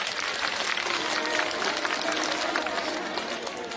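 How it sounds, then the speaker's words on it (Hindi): Loud, dense crowd applause for the chairman at a Jhuggi Samman Yatra gathering, steady clapping from many hands that fills the whole stretch with no break, some voices mixed faintly underneath. "एक बार जोरदार तालियां अध्यक्ष जी के लिए।"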